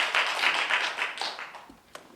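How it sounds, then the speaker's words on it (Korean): Audience at an art museum talk clapping, a brief burst of rhythmic claps that thins out after about a second and ends with a single sharp tap. "박수를 크게 치시라고요"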